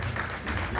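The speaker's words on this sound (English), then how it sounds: "Keep clapping." Audience applause fills a gala event hall, a dense steady clapping from a crowd that holds loud and close throughout the brief moment.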